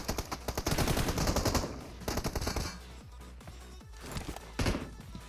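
Bursts of automatic gunfire from PUBG Mobile rattle in rapid strings, loud and close, broken by short pauses and a few isolated shots.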